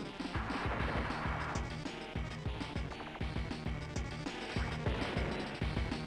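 Advance Wars 2 battle animation as units attack a battlecopter: a rapid series of punchy gunfire and impact thuds, steady and loud throughout, with no voices.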